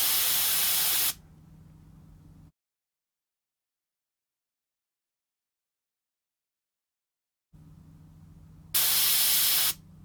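Airbrush fed by a compressor and used for model railroad work gives two loud, steady bursts of broadband hissing air at the start and near the end, with a lower hum in between and a stretch of silence.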